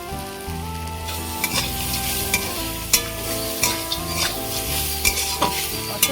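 Susuni greens frying in a pan with roasted peanuts and broken chillies, a loud steady sizzle punctuated by regular clinks and scrapes of a stirring spoon, close up with no talk.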